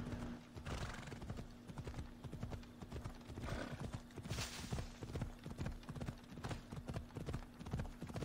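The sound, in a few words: donkey hooves clip-clopping in video game Assassin's Creed Odyssey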